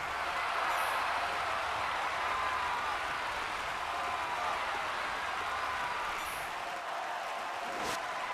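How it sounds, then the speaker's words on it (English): Sustained applause from a crowd at a tournament in the video game Dragon Quest Monsters, a steady dense clapping wash lasting the whole stretch at an even, moderate loudness. "Everyone please give a big round of applause to the representative of the Kingdom of Great Log, Scout Millie."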